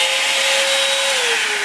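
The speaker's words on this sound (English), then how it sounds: "Revlon wand dryer goes to high" A Revlon wand hair dryer runs on its high setting, a loud steady whooshing airflow with a constant motor whine that dips slightly in pitch near the end, heard alone.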